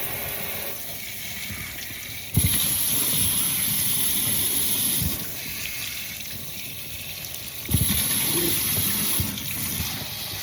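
Tap water runs and splashes while rinsing freshly dyed hair at a sink, a steady close gush that gets louder in two stretches, with no one speaking.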